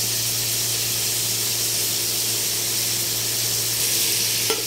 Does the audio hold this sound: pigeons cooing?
no